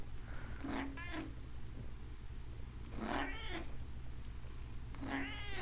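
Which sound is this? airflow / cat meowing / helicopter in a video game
cat meowing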